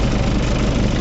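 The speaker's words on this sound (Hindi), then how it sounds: "पहले गियर में 2000 आरपीएम कर लो" A tractor engine runs in first gear at about 2000 rpm, giving a steady, loud, close low-pitched rumble with no talking over it.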